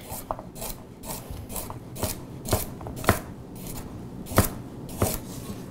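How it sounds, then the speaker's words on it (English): A Yaxell Dragon Fusion chef's knife rock-chops on a cutting board in a run of crisp, rhythmic thuds and taps, some louder than others, with no talking. "And you can rock. So you can push cut with this or rock."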